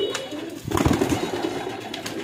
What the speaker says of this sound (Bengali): কবুতরের খামারটা অনেক সুন্দর